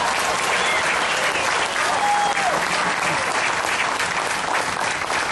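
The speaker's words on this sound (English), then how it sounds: "Let's give them a round of applause." A large crowd at a Vietnam veterans' salute event applauds a Marine color guard with dense, steady clapping that stays loud and unbroken throughout.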